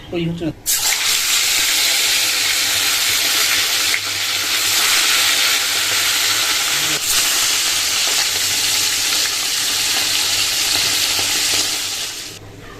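Fish rubbed with salt and turmeric drops into hot oil and fries with a loud, steady hiss that starts abruptly and continues for over ten seconds before easing slightly at the end.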